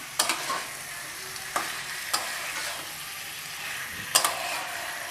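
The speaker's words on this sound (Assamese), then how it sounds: "এতিয়া ইয়াতে মই কাটি ৰখা আলুখিনি দি দিছোঁ। ভালদৰে লৰাই দিছোঁ এইখিনি।" Cut potatoes and chicken are stirred in a frying pan for pulao, with a steady sizzle broken by a few sharp scraping clacks of the spoon against the pan.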